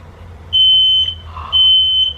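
A smoke detector goes off in a kitchen during cooking, sounding two loud, piercing beeps in a steady rhythm close by.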